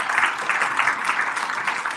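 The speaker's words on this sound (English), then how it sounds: "I want you to give yourselves a round of applause." A church congregation applauds themselves, with steady, dense clapping throughout at close range and no talk over it.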